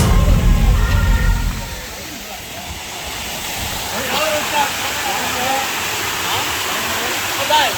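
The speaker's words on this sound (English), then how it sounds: "There is one more waterfall here at Verna Plateau." A waterfall at Verna Plateau in Goa pours in a steady hissing rush. A loud low rumble at the start drops away, and a person talks briefly over the water.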